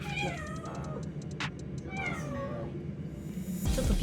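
A former stray cat, now a pampered house cat, lets out a run of short, close meows in an unusual tone, several quick calls in a row with a brief rustle near the end.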